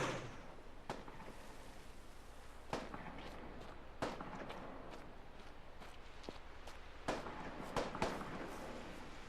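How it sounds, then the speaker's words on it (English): Scattered sharp gunshots crack at irregular intervals in the video game Get Even, some louder and nearer, over a low steady background rumble. "let's be careful approaching this gunfire"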